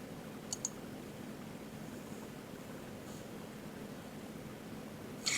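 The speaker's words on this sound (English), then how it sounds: "I have to click on register." A computer mouse clicks on a register button, giving a quick double click near the start and another click at the end, both crisp over a quiet background hiss.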